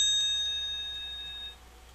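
A bell chime marking a page turn in an audio storybook: a single ringing tone holds and fades, then cuts off abruptly partway through, heard alone and fairly quiet.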